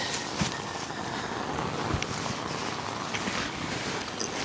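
A portable heater running on high in a camp during freezing weather, giving a steady, close, broadband roar that holds evenly throughout with a few small clicks and bumps.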